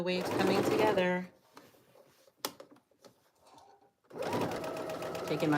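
A sewing machine stitches around the curved hem of a DIY Burberry-style jacket, running steadily at the start and again at the end, with a quiet pause and a few clicks in between.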